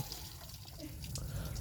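Water from a hand pump gushes and splashes continuously during an outdoor bath, the pumped water coming out dark and discolored; a steady, fairly soft rushing flow with small splashy bursts and no talk.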